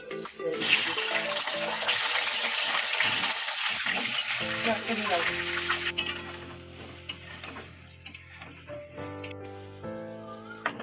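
Potatoes fry in oil with a bright crackling sizzle and clattering stirs, then the frying fades as steady tonal hum and clinks take over.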